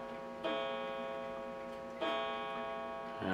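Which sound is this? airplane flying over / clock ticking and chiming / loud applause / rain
clock ticking and chiming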